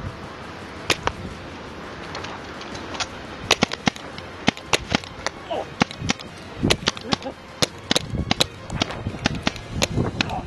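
Paintball marker fitted with a Rap4 anti-chop Lok-Bolt firing rounds at a target outdoors, a series of sharp, irregular pops spread across the clip, with background noise between shots.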